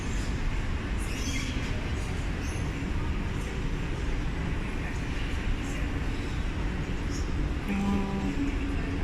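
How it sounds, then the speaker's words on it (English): A tram rolls past on a street in Krasnodar, Russia, a steady rumbling wheel-and-rail hum mixed with distant traffic, and a brief tonal squeal near the end. "Krasnodar trams."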